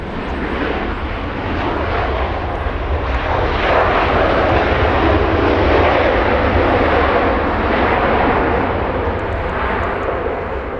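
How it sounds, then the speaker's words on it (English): A Spirit Airlines jet arriving from Denver passes close by, its engines a loud, sustained roar that swells and holds through the whole stretch, with no voices. "We have Spirit Wings, the arrival now. This one is a banana plane."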